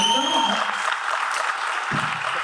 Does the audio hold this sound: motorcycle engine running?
no